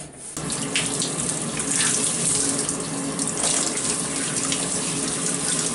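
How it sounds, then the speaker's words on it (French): A hot shower runs in a bathroom with a steady, dense hiss of water spraying and splashing, loud and close, continuing without pause and with no talking. "Donc là pour l'instant c'est la douche chaude"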